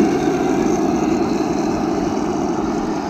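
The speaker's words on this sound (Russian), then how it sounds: "Специально поставил другой звук, чтобы вы могли оценить звук завода двигателя," A Heng Long 1/16 scale Sherman M4A3 radio-controlled tank (2.4G) runs its engine, a loud, steady, droning rumble that holds evenly from start to finish with no talk.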